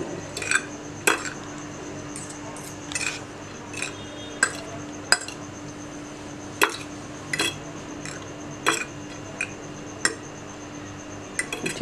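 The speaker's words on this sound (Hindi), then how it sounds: "सबसे पहले आप चीज़ को मिक्स करें अच्छी तरह से" A metal spoon clinks against a bowl while spicy cheese filling for paratha is mixed, with irregular sharp taps and scrapes spread across the stretch over a quiet kitchen background.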